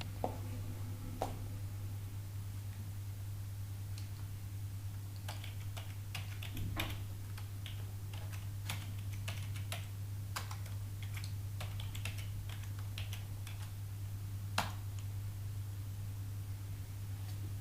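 Typing a C program one-handed on a computer keyboard, with scattered key clicks at an uneven pace over a steady low hum, close and fairly quiet.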